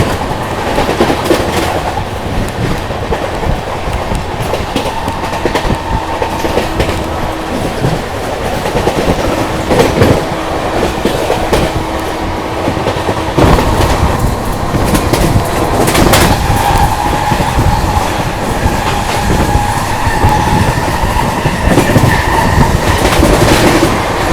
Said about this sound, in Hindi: गुवाहाटी एक्सप्रेस का ओवरटेक बिहार संपर्क क्रांति से भाई, जो भी आएगा सामने सबको ओवरटेक करती है अपनी बिहार संपर्क क्रांति